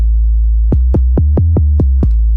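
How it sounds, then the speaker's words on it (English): A deep trap bass synth in GarageBand plays low on a keyboard, six quick booming notes with pitch-dropping attacks over a sustained low drone, loud and alone. "So the trap bass sounds a bit like this."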